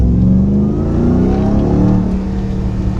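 A Ram TRX truck with a 702-horsepower engine pulls hard at half throttle, a loud deep roar rising and holding close by, then easing slightly near the end.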